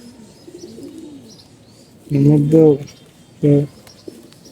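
Pigeons in a loft of coloured fancy breeds give two short bursts of deep, throaty cooing close by, with quiet chatter and faint background bird sounds around them.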